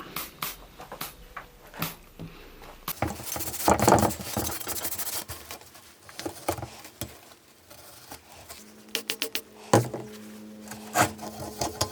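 A brush scrubbing the bearing cups of a 1950s Terrot motorcycle being restored, with brisk rubbing strokes, a dense loud flurry mid-way, then scattered scrapes and knocks, all close up.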